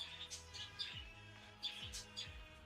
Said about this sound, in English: The birds are now becoming more and more active.